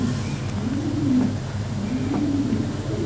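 Lahori pigeons cooing in a loft, low rolling coos repeating in two drawn-out phrases, fairly close and steady over a soft background hum, with no talk.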